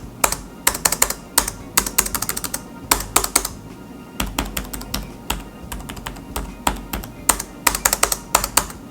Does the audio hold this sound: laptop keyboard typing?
yes